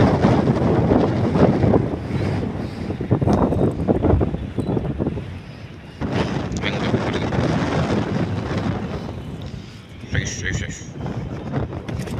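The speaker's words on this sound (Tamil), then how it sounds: "காற்று வேறு லெவலில் அடிக்குது" Strong sea wind roars and buffets the microphone aboard a boat during mullet fishing. The noise is loud and continuous, and voices talk over it.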